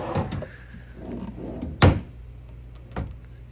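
A dresser drawer in a hotel room slides and knocks, with a sharp wooden thud near the middle and a lighter bump toward the end, close by, amid faint shuffling and room noise.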